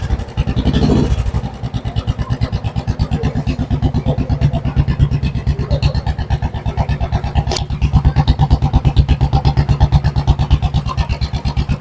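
A 2014 KTM Duke 125 motorcycle, European version, idles and revs with a steady, rapid single-cylinder thump. The engine is loud and close and runs throughout with no voices over it.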